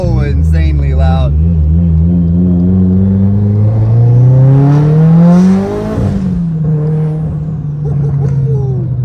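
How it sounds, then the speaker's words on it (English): Mitsubishi Evo engine under a short pull, its loud exhaust note climbing steadily in pitch before dropping back off around the shift, with turbo whistle over a close, continuous drone. "we're gonna try and get a little baby pull and see if you guys can hear the exhaust"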